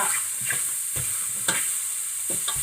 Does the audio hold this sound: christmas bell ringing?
no